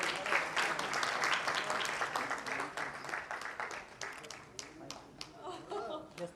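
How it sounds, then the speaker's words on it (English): An audience at an awards conference gives a round of applause, a dense wash of clapping with scattered louder claps that thins toward the end, mixed with faint voices. "Please have a round of applause."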